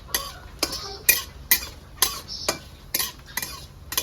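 Whole spices such as green cardamom and cumin seeds being fried in a pan, with regular spoon scrapes and stirring clatter about every half second over a faint background sizzle, close and fairly quiet.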